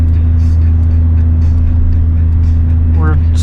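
A truck with a 24-year-old 8.1-litre gas V8 and automatic transmission, towing 18,000 pounds, engine braking down a mountain slope: a steady, loud low engine drone throughout, with a voice speaking briefly near the end.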